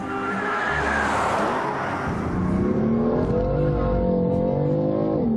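A BMW M4's twin-turbo inline-six engine revs up and accelerates on a racetrack, its pitch climbing steadily, loud and close with a deep, muffled tone and no talking.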